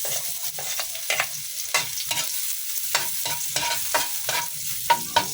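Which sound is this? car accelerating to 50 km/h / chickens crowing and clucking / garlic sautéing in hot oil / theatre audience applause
garlic sautéing in hot oil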